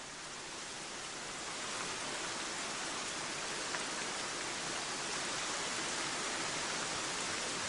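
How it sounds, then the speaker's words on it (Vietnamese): Heavy tropical downpour in a rainforest, a dense, unbroken roar of rain that swells slightly in the first two seconds and then holds level. "Những cơn mưa như trút nước"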